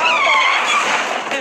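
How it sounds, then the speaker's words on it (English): Tires skid loudly as the Morgana car races into a Mementos stage battle in Super Smash Bros. Ultimate, a sustained hissing screech lasting about a second and a half at steady, close volume. "the Phantom Thieves of Hearts will rush to the scene in the Morgana car"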